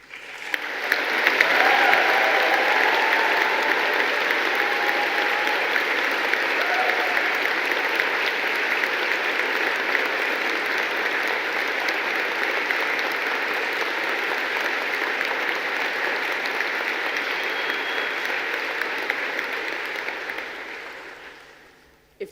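A large graduation audience of veterinary and veterinary nursing graduates applauds steadily, sustained dense clapping with a few faint cheers, holding at an even level for about twenty seconds before tapering off at the end.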